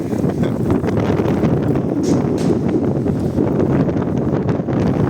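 Steady wind roars and buffets the microphone continuously in central Truskavets, Ukraine, a dense rumbling whoosh with no other distinct sounds.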